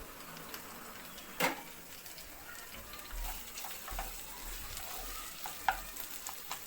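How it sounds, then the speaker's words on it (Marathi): Onion fries in two spoonfuls of hot oil for a restaurant-style matar paneer, giving a soft, steady sizzle with occasional stirring scrapes and clinks, faint and close. "आता 2 चमचे तेल टाकणार आहोत। आणि याच्यामध्ये कांदा टाकून घेणार।"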